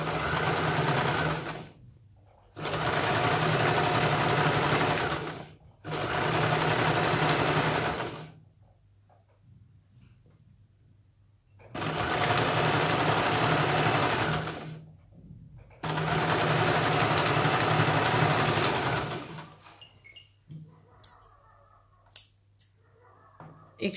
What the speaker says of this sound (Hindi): इसके ऊपर हमें सिलाई लगानी है